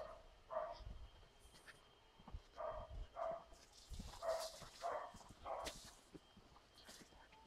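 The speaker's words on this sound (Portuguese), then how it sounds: "Os cachorros estão latindo." Several dogs bark in short bursts at a distance on a grassy rural property, the yaps scattered irregularly over a quiet outdoor background.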